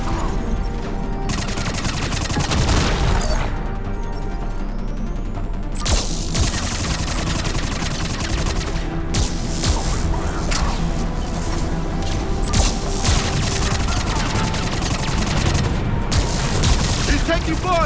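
Sustained gunfire in a Mass Effect 3 battle, rapid automatic bursts and heavy booms layered over one another in a loud, continuous barrage with brief lulls, shouted voices occasionally cutting through.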